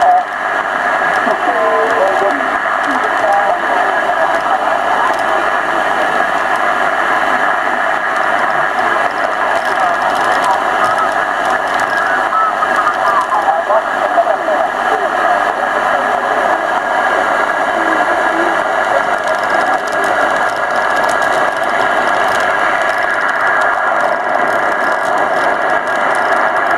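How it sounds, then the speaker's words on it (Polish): Hiss and crackle of radio static from QRM interference on a receiver, a steady loud band of noise with faint tonal whines running unbroken throughout. "Tu QRM-y naszły. Nic nie słychać. Kupa szumu."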